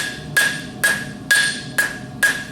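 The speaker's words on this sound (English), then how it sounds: "I'm going to use the round side of the hammer. I have it up on the horn." A hammer's round face strikes metal held on an anvil horn to draw out material: five sharp, ringing blows at a steady, even pace, close and loud, with each ring fading before the next hit.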